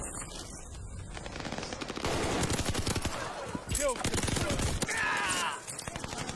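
Rapid automatic gunfire in Call of Duty: Warzone, dense continuous bursts of close, loud shots with brief pauses and some metallic game effects, while a player talks over it.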